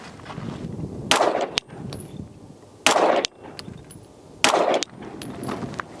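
Three loud, sharp gunshots from a DUSK 19 R Glock-clone pistol at a shooting range, spaced a couple of seconds apart, each a sudden crack with a brief ringing tail over low background noise.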